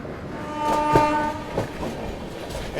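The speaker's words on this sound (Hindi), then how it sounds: "As expected Kashi Mahakal express निकल चुकी है।" Kashi Mahakal Express passing a moving train, its horn sounding in long tonal blasts over rumbling, clattering rail noise, heard close with no talking.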